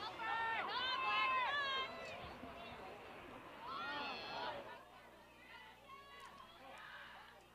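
Excited fans at a girls lacrosse game between Oregon and Janesville cheer in a loud burst of high-pitched shouting and squealing, which eases to a second swell and then to scattered crowd chatter.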